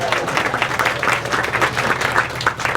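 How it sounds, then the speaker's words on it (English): Applause at a young farmers' club anniversary gathering, a room full of people clapping together in a dense, steady patter that stays fairly loud throughout. "give him a round of applause"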